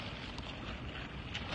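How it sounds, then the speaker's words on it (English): A boat motor hums at a distance near an open-water swimmer off Coronado Island, a faint, steady drone blended with wind buffeting the microphone. "boat coming."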